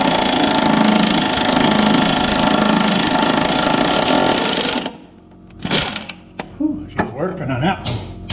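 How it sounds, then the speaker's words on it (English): A loud Ingersoll Rand impact wrench fitted with a Craftsman extension hammers continuously for about five seconds while working on a 1998 Chevrolet Suburban, then stops; someone talks afterward over faint clinks. "my new Craftsman extension doesn't like my Ingersoll Rand impact"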